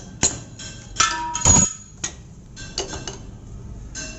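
Several sharp metallic hammer blows on a drift, knocking a taper shank drill sleeve free from a drilling machine spindle in an ITI fitter workshop, irregularly spaced clanks with small ticks between.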